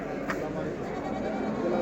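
A lamb bleats briefly amid the noise of a live animal market in Göksun, Kahramanmaraş, Turkey, the wavering cry partly buried under crowd chatter.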